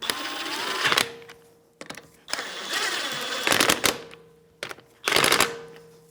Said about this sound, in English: Now 17mm socket, I'm just going to bottom them out.